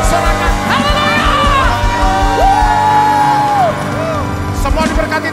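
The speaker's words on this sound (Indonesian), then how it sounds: "Berikan sorak-sorak. Sorakan haleluya." A church congregation cheering hallelujah during a Sunday service, loud with whoops, shouts and sustained voices, plus rising and falling yells over a crowded hall.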